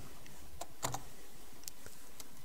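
Quick keystrokes on a computer keyboard as a terminal command is entered, a short run of close, crisp clicks and taps with a couple of sharper key hits.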